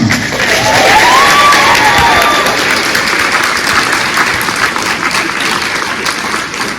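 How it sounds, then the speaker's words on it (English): A large awards-ceremony crowd gives loud, sustained applause for the MC of a high school journalism awards event, dense clapping with cheers and a whoop early on, gradually easing off toward the end. "Please give a big round of applause for our MC, Elaine Espinola of WUSA 9."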